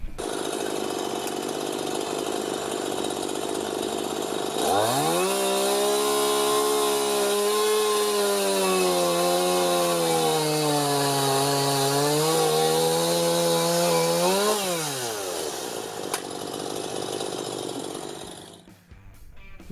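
Stihl chainsaw cutting wood, its engine idling and then revving up into a sustained, slightly wavering high-pitched whine for about ten seconds before dropping back to idle, close and loud.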